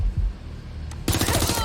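Gunfire in the Watch Dogs Legion video game: a dense burst of rapid shots erupts after a quieter stretch of low rumble, continuing loud and sustained to the end.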